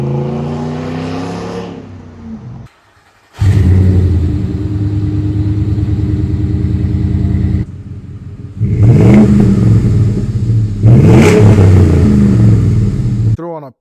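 A 2009–2014 twelfth-generation Ford F150 pickup revs loudly through a single-in, single-out 2.5-inch Flowmaster Super 10 exhaust, with a rough rumbling idle, two sustained revs and a brief drop to near silence between bursts.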